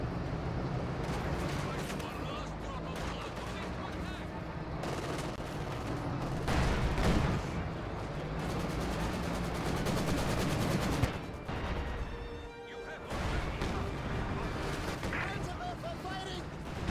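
Battle sounds from a Company of Heroes 2 match on the Lublin map: bursts of rifle and machine-gun fire with heavy artillery-like booms, dense and continuous, with loud surges and a brief lull near the end.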